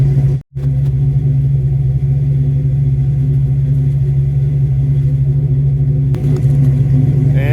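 A Ford Fox Body Mustang engine with a FlowMaster exhaust, either Super 44 or 50 Series Delta, holds a loud, steady deep rumble at high revs from about 8 yards away, with only a brief dip near the start.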